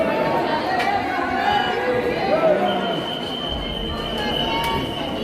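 Dense crowd of pilgrims at the Khatu Shyam temple, a steady loud murmur of many overlapping voices with a continuous hum beneath, holding level throughout without a break.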